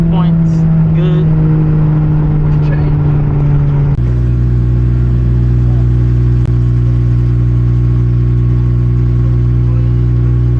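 Single-turbo BMW N54 car on a drag strip, a loud steady engine drone with strong low harmonics that shifts pitch abruptly as it pulls through a gear, heard close and continuous.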